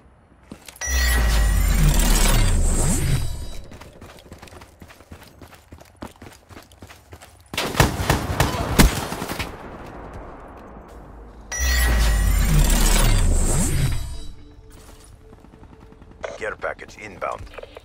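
Brecci shotgun blasts in the Black Ops 3 video game, heavy booming bursts in three separated clusters, each with a loud sustained roar and tail, with game effects between them.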